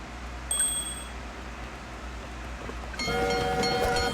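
A train departs in the video game Tree of Savior Neverland: a quiet rumbling rail loop, a bright bell-like chime near the start, then a louder burst of ringing tones and clatter near the end.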